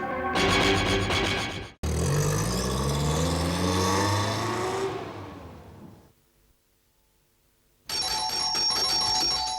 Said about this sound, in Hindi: रात को टेलीफोन का घंटी सताता है और दिन में दरवाजे का घंटी।